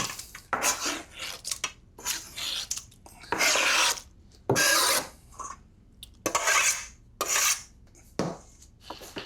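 A knife dices red peppers on a wooden board in a kitchen, giving repeated bursts of brisk chopping and scraping strokes in uneven rhythm, close and fairly loud, with no talking.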